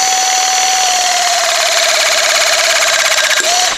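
A hydraulic press tool squeezes a ComPRESSed FastPipe fitting onto a 1-inch pipe, giving a loud, steady motor whine that slowly drops in pitch for over three seconds, then cuts off abruptly near the end.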